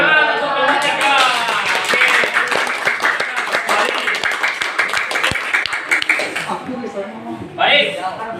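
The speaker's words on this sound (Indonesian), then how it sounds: "Tepuk tangan untuk pembicara." A classroom audience claps for a student speaker from a group presenting at a teacher coaching session, with sharp, uneven hand claps running for several seconds under ongoing talk before fading out.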